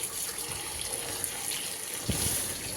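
Jute leaves being washed in water at a kitchen sink, with a steady running-water wash and soft splashing and rustling of wet leaves, close and moderately quiet throughout.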